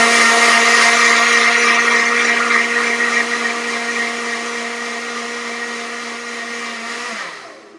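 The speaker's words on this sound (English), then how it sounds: "I'm just gonna blend it one last time." A blender whirs at high speed blending chocolate almond milk sweetened with a date, a loud steady motor whine that eases slightly before cutting off abruptly at the end.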